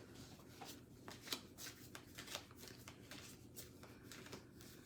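Cards being shuffled in quick riffling bursts, repeated several times over a low background hum, fairly close and moderately quiet, with no talking.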